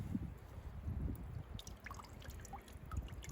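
Meltwater drains and trickles out of a two-to-three-gallon maple sap bucket after an ice block is pulled from it, a soft, close, continuous dribbling with low gurgling and small drips, no talking.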